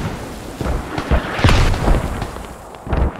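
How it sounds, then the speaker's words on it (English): Mortar shells landing in the tactical shooter game Squad, a series of heavy booming blasts with deep rumbling tails, several overlapping impacts close together and loud. "But friendly mortars do come in and stop the rest of the push that easily would have got it to Siller."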